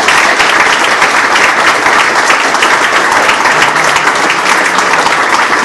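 An audience at a political café meeting applauds the informateur, producing loud, dense, sustained clapping from many hands that continues evenly throughout.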